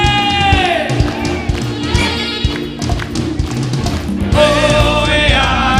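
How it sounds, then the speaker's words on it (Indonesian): An audience claps at a virtual Christmas concert, the sharp taps blending with singing and music, loud and close. "Boleh kita tepuk tangan semuanya"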